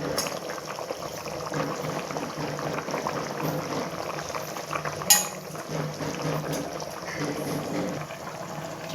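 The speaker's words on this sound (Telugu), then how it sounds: "నీట్గా రైస్ అంతా వేసేసుకోవాలి ఎసిట్లో." Rice tipped into a pot of boiling water for shahi chicken biryani, a steady close bubbling and trickling with a brief sharp clink partway through, quiet speech faint beneath.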